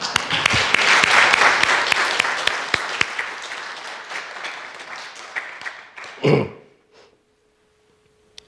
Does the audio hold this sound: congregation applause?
yes